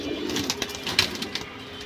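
Pigeons of a silver bezi breed cooing close by in soft, rolling, throaty murmurs that pulse a few times in quick succession, with no talk.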